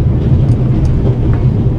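Steady rumbling train ambience from the video game The Raven: Legacy of a Master Thief, a continuous low, dense rolling drone with faint scattered clicks of the carriage, carrying evenly throughout with no voices.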